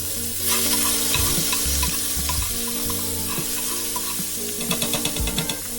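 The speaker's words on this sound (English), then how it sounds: "we're gonna put just a little bit of minced garlic in there" Minced garlic sizzles loudly in a hot pan, a dense close crackle with stirring clatters and a burst of sharper pops toward the end, and no one speaks.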